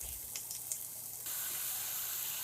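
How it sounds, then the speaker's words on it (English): Continuous hissing sizzle of ribeye steak frying in a hot pan with sautéed onions, growing louder and brighter halfway through, with a few faint clicks early on. "the steak is in the pan. As you hear, a sizzle is going on."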